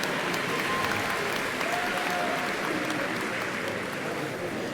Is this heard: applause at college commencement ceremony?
yes